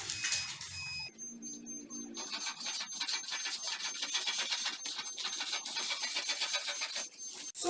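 Scissors cut through a paper pattern for a fish tail off-shoulder gown, a steady close rasping scrape that runs almost without pause after a short quiet start.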